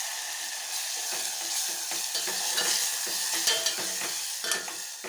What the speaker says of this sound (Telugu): ఇవన్నీ కాసేపు టమాటాలు మగ్గించుకోవాలి.